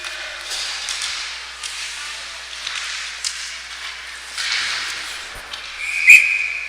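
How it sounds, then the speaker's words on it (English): A single short, shrill referee whistle blast cuts through a hissing, crowd-filled ice hockey arena ambience near the end, brief and fairly distant, during an under-15 game. "Worked into the wall and whistle goes."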